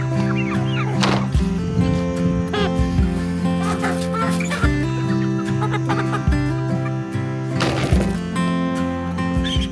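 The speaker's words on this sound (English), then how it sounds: "Sometimes it's hard to identify the roosters until they're bigger, like this one." Young chickens and roosters in a homestead coop cluck and squawk continuously in a busy, loud, close chorus, with occasional sharper cries standing out over the steady flock noise.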